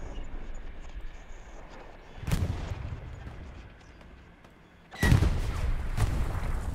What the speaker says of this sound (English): That explosion did not hit Hoppe at the moment.